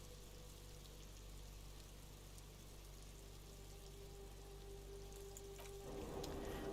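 Steady rain ambience in the video game Disco Elysium, a soft constant hiss of falling rain with a low hum underneath, growing slightly louder and denser near the end.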